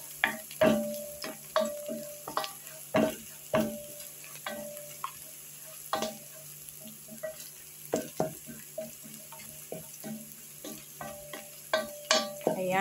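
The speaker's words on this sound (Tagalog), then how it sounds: "at yung ating bay leaves. Toast lang ng konti." Bay leaves toasting in a pan with cloves and cardamom seeds for Afghani chicken rice, with a faint sizzle under a steady run of crisp spatula taps and scrapes against the pan.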